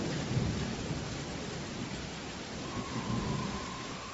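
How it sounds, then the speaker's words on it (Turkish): A violent thunderstorm with heavy, wind-driven rain sweeps over the Mohács plain. A dense roar of rain persists throughout, with low thunder rumbles swelling near the start and again later. "Fırtınayla karışık yağmur Mohaç Ovası'nın üzerinde deli gibi savruluyordu."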